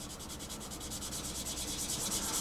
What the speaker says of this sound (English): nice bit of wet sanding, is just start to sand now